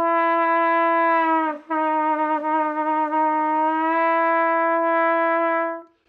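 A single sustained brass note bent with a fully relaxed embouchure, steady and bright, briefly dipping and wavering in pitch before settling, held for several seconds then stopping.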